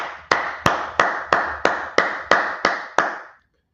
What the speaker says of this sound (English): We're going to clap it up.